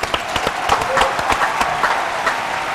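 An audience claps in applause, with dense irregular hand claps that stay steady and fairly loud for a few seconds.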